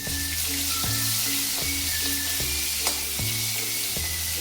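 Cumin seeds sizzling in hot oil for tempering, a steady close crackling hiss under a low rhythmic droning hum with repeated regular ticks. No talking.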